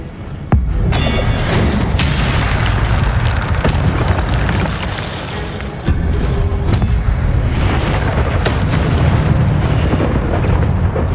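Casting the Incendio fire spell in Hogwarts Legacy unleashes a loud, continuous roaring burst of flames with booming rumble and crackle, sustained throughout with a sharp onset.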